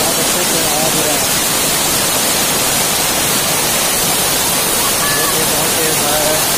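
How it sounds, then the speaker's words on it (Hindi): The Jatmayi Ghatarani waterfall in Chhattisgarh roars nonstop, with water crashing down in a loud, dense, steady hiss that fills the whole stretch. Someone speaks faintly underneath. "बहुत ही खूबसूरत वाटरफॉल है।"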